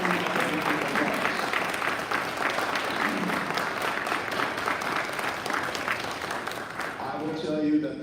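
Audience applause for military spouses at a Rotary club meeting, sustained dense clapping from a room of people, with a few voices and a whoop near the end.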